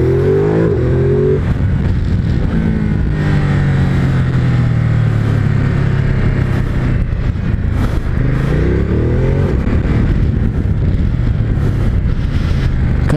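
A Ducati motorcycle on the Panamericano circuit roars continuously at close range, and its engine note climbs and drops through gear changes and revs under wind rush, with no talking.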